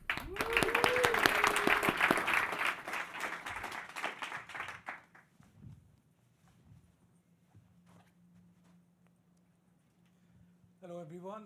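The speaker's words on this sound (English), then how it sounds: "big round of applause for Pebble" Audience at a startup accelerator demo day applauding for the next presenter, loud clapping with a voice calling out early, fading out after about five seconds into quiet room tone before brief noise returns at the end.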